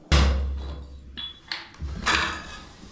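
Several heavy, irregular knocks and cracks from hammering off old tiles in a rental kitchen renovation, with scraping and rattling debris between strikes, close up.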